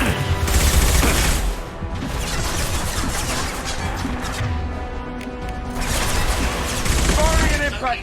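Gunfire and impacts in the video game Mass Effect 2, loud bursts of shots and crashing hits at the start and end with a busier stretch of rapid fire between.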